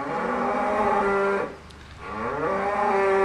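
Cows on a farm mooing loudly and close by, two long drawn-out calls separated by a brief quiet gap.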